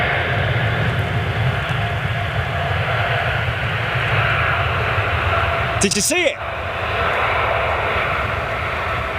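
Ilyushin airliner engines roaring steadily through a takeoff at Manchester International Airport, a broad continuous rumble heard from a distance, with a brief voice cutting in near the end.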